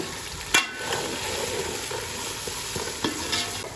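Red chilli powder fries in oil in a pan with a steady close sizzle, punctuated by a few stirring scrapes of a spoon, and no voices.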